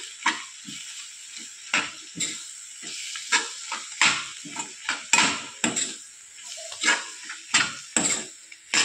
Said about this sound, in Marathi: बेसन छान मिक्स केले